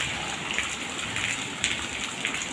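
Steady rain pours outside, a dense close hiss of drops with occasional louder splashes on a hard surface, with no one speaking.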